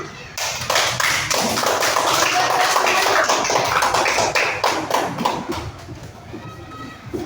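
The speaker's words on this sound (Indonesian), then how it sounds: "Sekarang kita sambut kelompok 2 dengan tepuk tangan" Schoolchildren in a classroom applaud to welcome a presenting group, a dense burst of many hands clapping that holds steady for several seconds, then thins into scattered claps and fades.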